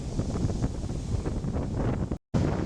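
Strong wind rumbles and buffets steadily with no voices, then briefly cuts out before gusting again.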